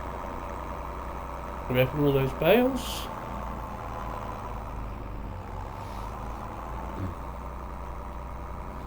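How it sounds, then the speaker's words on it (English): A tractor engine in a farming video game on an Irish map hums steadily at a constant low drone throughout, with someone talking briefly over it early on. "take this tractor back now"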